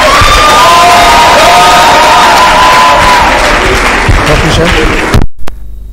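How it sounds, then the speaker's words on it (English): Loud applause and cheering from a large crowd at a physiotherapy profession induction ceremony, steady for about five seconds with some shouts and voices mixed in, then cutting off abruptly into near silence. "A big round of applause."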